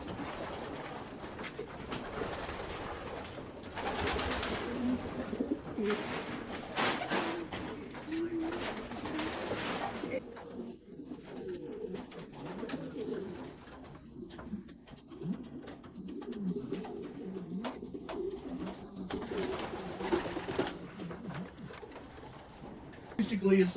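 Racing pigeons for sale in a loft at a breeding station coo softly and repeatedly under faint background rustle, with people talking quietly nearby.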